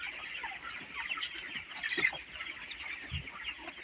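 Three-day-old to two-week-old DOC chicks peeping and clucking softly in a brooder, a steady faint chatter of small birds with no talking.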